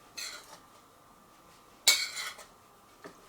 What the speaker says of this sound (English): then you just mix all of this together